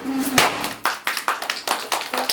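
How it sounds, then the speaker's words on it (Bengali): A family claps together at a small home cake-cutting celebration, with loud, close, rhythmic handclaps after a brief opening knock. "হাততালি দাও সবাই।"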